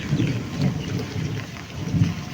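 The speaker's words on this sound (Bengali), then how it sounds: "এই যে বৃষ্টি মাথায়" Rain falls steadily outdoors beside a pond, a soft hiss of drops with low rumbling gusts as someone walks through the wet weather.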